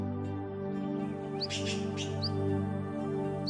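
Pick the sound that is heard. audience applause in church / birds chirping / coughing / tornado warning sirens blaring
birds chirping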